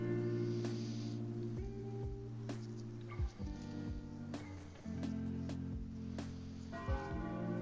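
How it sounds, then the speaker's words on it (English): A bell-like alert chimes during a late-night game stream, ringing tones struck repeatedly with sustained overlapping resonances over a soft background hum. "It's the raid bell."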